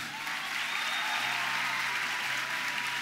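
A church congregation fills the room with dense, sustained applause, loud and even throughout with no voices rising above it.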